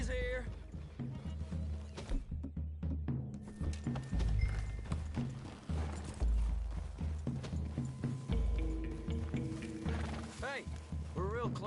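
Horses walk through trees in the video game Red Dead Redemption 2, their hooves clopping in a loose, steady rhythm close by, with characters talking over the footfalls.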